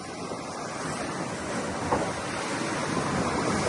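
Ocean waves and wind rushing around a racing sailboat on the open sea, a loud, steady wash of surf and wind noise with no voices.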